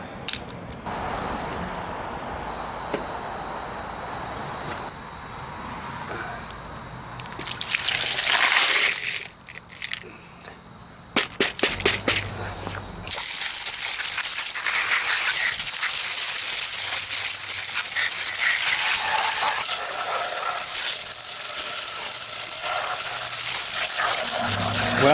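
Polished tumbled rocks rinsed under running water: a steady gushing stream, interrupted midway by clattering handling and a brief lull, then returning as a louder continuous rush to the end.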